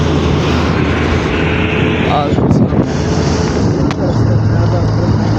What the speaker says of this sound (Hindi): ठंडी हवा चल रही है माशाल्लाह